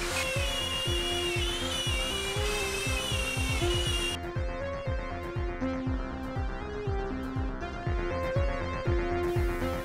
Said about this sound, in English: The 4 holes for the subwoofers and 2 ports were aligned and then cut out using a circle jig.